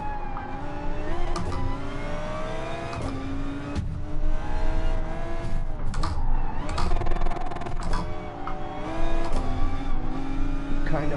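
Gr.4 and Gr.3 race cars lap the Brands Hatch and Willow Springs circuits in GT Sport, a GT-R close behind; engines whine loud and steady through upshifts and revving, with tire noise and some talk over it.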